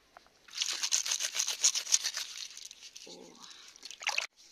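Pearls taken from a devil fish's belly are rinsed and rubbed in water, a close scrubbing slosh that fades into a softer dribble, then ends in a final brief splash.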